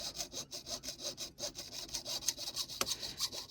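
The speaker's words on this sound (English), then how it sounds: "this is not going to be the greatest sawing job" A hand saw cuts with a steady back-and-forth rasp, each stroke clearly audible in an even rhythm, close up.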